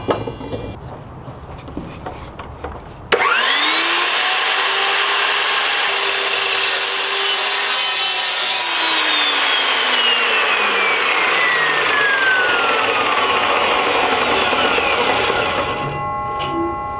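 A power saw cuts down metal ribs inside a Vanagon van. After a quiet start it bursts into a loud, whining cut whose pitch sags under load, holds for about thirteen seconds, then winds down.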